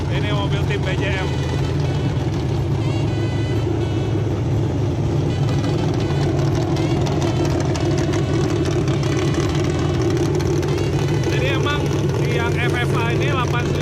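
Eight-cylinder FFA tubular offroad race car with a fiberglass body idling, a steady low rumble held throughout with voices talking over it.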